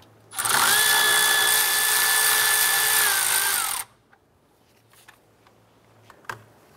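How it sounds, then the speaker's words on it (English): A 10mm socket on an extension loosens the lower radiator hose clamp on a 1994-2004 Chevrolet S-10, with a loud, steady motorized whir lasting about three and a half seconds, then stopping, followed by a few faint clicks. "Using our 10mm socket and extension, we're going to go ahead and loosen our lower radiator hose clamp."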